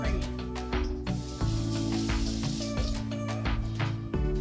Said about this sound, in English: let me rinse my spoon off